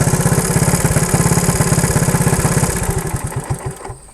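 An abandoned Honda three-wheeler's air-cooled engine runs rough and will not hold an idle, giving a close, loud, uneven putter of firing pulses that slows and stumbles before dying out near the end.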